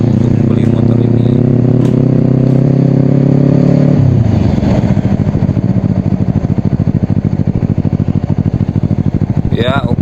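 A 150cc sport motorcycle engine runs nearby, first held at a steady rev, then dropping into a rapid, pulsing idle that chugs evenly to the end; a voice speaks briefly over it.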